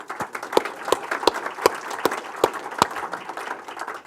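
Audience at a talk on managing growth in Auckland clapping together, a steady wash of hand claps with sharp individual claps popping out, fairly close and sustained for the whole stretch.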